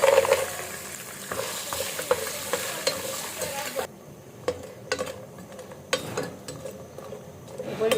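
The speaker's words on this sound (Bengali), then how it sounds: "এই ডালের বড়ি ভেজে নিতে হবে।" Lentil dumplings (bori) sizzle in oil in a pot while being stirred, with repeated scraping and clinking strokes over a steady frying hiss, loud and close.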